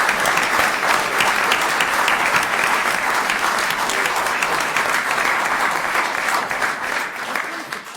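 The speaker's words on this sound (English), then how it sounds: "We can clap." Sustained applause at a borough council meeting honoring the state champion soccer team, a full room clapping steadily for about eight seconds, thinning slightly at the close.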